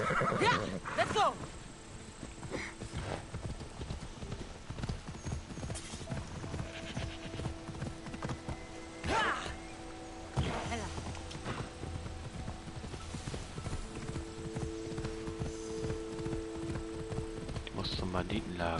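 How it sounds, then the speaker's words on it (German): A horse in the video game Assassin's Creed Odyssey clops along on hooves and whinnies, with game sounds and someone speaking over it. "Da ist mein Pferd."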